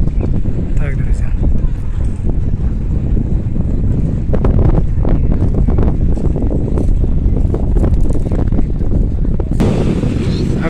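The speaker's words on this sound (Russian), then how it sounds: "Опять ветер поднимается, как видите." Strong wind buffets the microphone on a crowded seaside beach at Novorossiysk, a constant loud roar and rumble with gusty thumps throughout.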